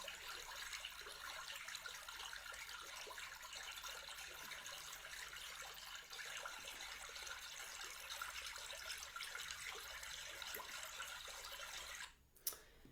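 A small stream trickles and babbles continuously at a low, even level, with a brief louder rustle near the end.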